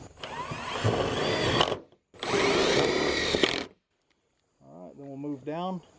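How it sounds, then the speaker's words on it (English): A power drill drives screws through a gutter guard into a gutter, whirring loud and close in two bursts of about two seconds each. Someone speaks briefly after the second burst. "I'm going to put 3 screws in it, 2 on the ends, 1 in the center."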